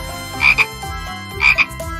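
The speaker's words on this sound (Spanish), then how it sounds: "¡Una rana!" A cartoon frog gives two loud, close double croaks about a second apart over bright children's backing music, with no talking.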